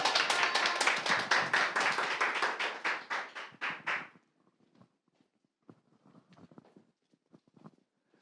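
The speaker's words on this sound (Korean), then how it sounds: "두 18학번 분들께 큰 박수 드리면서 보내드리도록 하겠습니다" An audience claps in a burst of steady applause for two interviewees at a youth and student rally, lasting about four seconds before cutting off, followed by faint scattered taps and shuffling.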